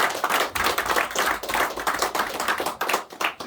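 A church congregation applauds during a Sunday morning worship service. Dense, close clapping from many hands continues steadily for several seconds, with no talking.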